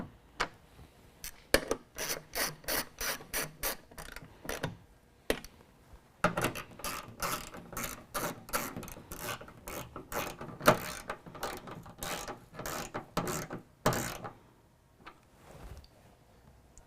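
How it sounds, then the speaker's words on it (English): Rapid ratchet clicks from a 10mm socket wrench tightening headlight mounting bolts, several quick bursts of sharp ratcheting separated by short pauses, close, no talk. "we can go ahead and use our 10mm and tighten them all down"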